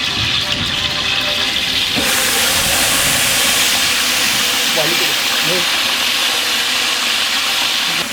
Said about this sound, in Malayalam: ഇനി ഇതിലേക്ക് ചിക്കൻ ഇടാം.